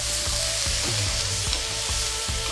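Eggplant pieces for a vegan curry sizzle steadily in a hot pan, with a few scraping stirs breaking through the continuous frying hiss.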